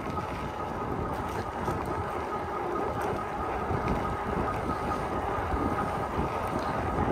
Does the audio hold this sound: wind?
yes